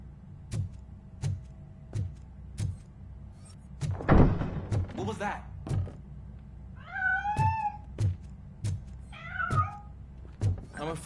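A cat meows in the Robocop video game, with two clear rising and falling meows near the middle and end, set among regular thumping knocks and a brief noisy burst.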